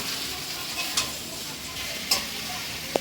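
Curry in a pan being stirred after water is added, a close bubbling sizzle with a few distinct spoon scrapes and one sharp tap near the end.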